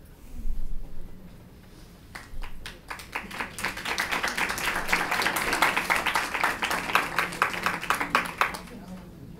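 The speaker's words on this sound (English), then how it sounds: "You really don't have to clap." An audience applauding at a board meeting, the clapping starting sparse then swelling into a steady, moderately loud round of many hands that lasts several seconds, with a voice talking at the start.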